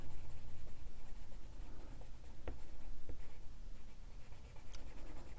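A gray watercolor pencil used dry colors in a stamped bunny on paper, making a continuous close, soft scratchy scribbling with rhythmic back-and-forth strokes and a couple of light taps.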